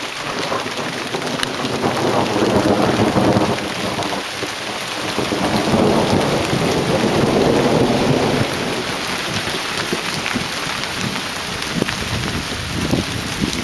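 A thunderstorm on Salt Spring Island, Canada: steady heavy rain hisses throughout while low thunder rolls and swells in the background.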